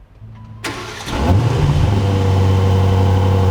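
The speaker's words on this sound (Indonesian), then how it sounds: "Terdengar suara raungan V8-nya ya." An Aston Martin DB12 V8 engine cranks briefly, then roars to life and settles into a loud, steady, deep idle, heard up close.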